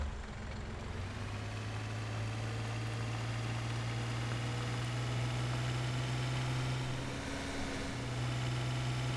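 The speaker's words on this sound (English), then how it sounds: "Sounds like a little utility tractor." A small utility tractor engine in Farming Simulator 17 idles and hums steadily at close range, its low drone shifting slightly in pitch near the end.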